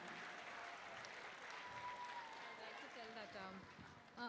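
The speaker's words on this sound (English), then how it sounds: "Please give a big round of applause for Nikhil Kota." Audience applause at a prize distribution ceremony, a steady wash of clapping from a crowd lasting the whole stretch, fairly faint and distant, with a voice speaking over part of it.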